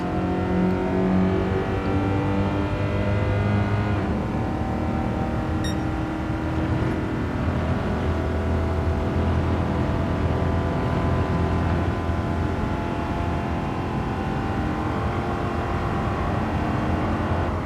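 A race car engine in Gran Turismo 7 during an online multiplayer race gives a sustained, loud mechanical drone with a steady pitch that wavers slightly through a corner; no voices.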